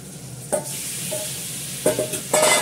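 Meat added to a pan with salted potatoes, onion greens and bay leaf, a steady sizzle broken by a few sharp stirring scrapes and clatters close by.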